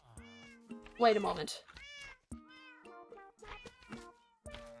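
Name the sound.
cat meowing in the video game Minecraft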